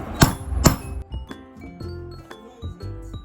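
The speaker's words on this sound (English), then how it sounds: "I'll take my hammer and I'll place the middle of it on that cross mark," A hammer sets a metal eyelet into a structured Ankara fabric bag: two loud, sharp strikes close together, followed by several lighter metallic taps and clinks.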